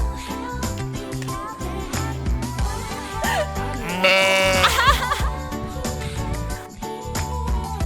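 A sheep bleats midway through at Qingjing Farm in Taiwan, a wavering cry heard over steady background music.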